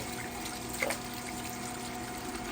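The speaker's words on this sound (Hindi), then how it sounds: "जल्दी जल्दी इसको धो लो" Tap water runs steadily while tomato and ginger plants are washed, a soft, even hiss that continues throughout with one brief splash near the start.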